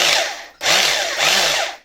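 A 1981 Celma PRWg 1IIB hammer drill spins its chuck in short, loud, close bursts. The motor whirs with a wavering pitch, cuts out briefly, then starts again.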